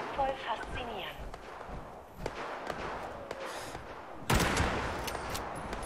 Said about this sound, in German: Mal zwischendurch drauf schießen.